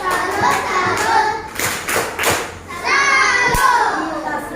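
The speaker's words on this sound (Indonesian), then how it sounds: "Tepuk salut dulu buat Putri." Young pupils in a classroom clap a rhythmic salute together, bursts of hand claps and thumps mixed with children's chanting voices, loud and close.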